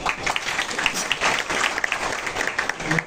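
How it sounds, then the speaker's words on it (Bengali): An audience claps steadily at a student farewell program for an occupational therapy batch, a dense, continuous wash of applause that holds for the full stretch with no talking over it. "ওদের জন্য একটা তালি দাও।"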